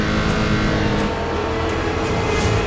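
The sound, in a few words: rallycross cars launching off the grid at Nitro Games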